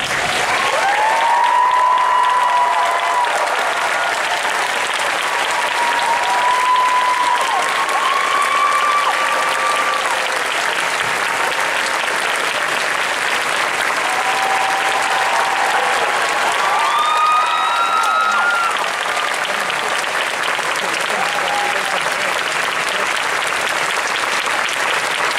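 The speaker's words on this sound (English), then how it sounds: "Keep that applause going." A large audience at Disney's Hollywood Studios applauds cast members at a 35th anniversary show, sustained loud clapping with scattered cheers and whistles rising over it.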